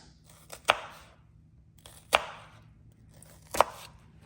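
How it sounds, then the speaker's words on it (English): A knife slicing through an onion on a cutting board for guacamole gives three sharp, well-spaced cuts, each a crisp close knock with a faint trailing scrape, in an otherwise quiet kitchen. "I'm going to use this knife. I'm just going to slice this."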